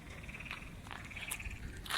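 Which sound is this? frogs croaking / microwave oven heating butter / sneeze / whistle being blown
frogs croaking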